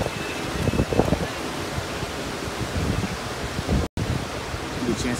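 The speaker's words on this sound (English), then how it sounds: "Hope you can hear the waves." Ocean waves wash steadily onto a beach in a broad, continuous surf roar with wind noise on the microphone, one brief dropout near the end.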